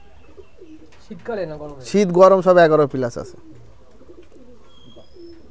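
Madrasi highflyer pigeons coo softly in a loft, their low, wavering calls rising intermittently in the background while someone talks over them.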